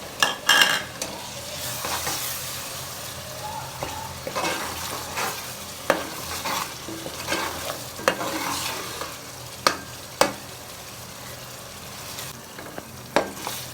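Black chickpeas go into frying masala in a pan and are stirred with a spoon, giving a steady soft sizzle broken by repeated scraping clinks against the pan, with no talking.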